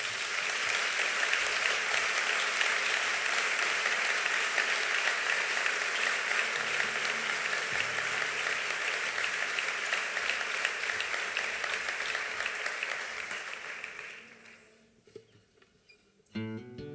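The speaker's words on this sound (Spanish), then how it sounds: "Un aplauso, por favor." A large audience at an 80th-anniversary commemoration of the Ezkaba prison escape applauds steadily and loudly for about fourteen seconds, then the clapping fades away into near quiet.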